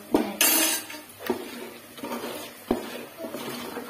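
A spoon stirs flour in a metal pot as hot oil is worked in for Mysore pak, giving repeated scraping clinks and taps in an irregular rhythm, close and fairly quiet with no talk.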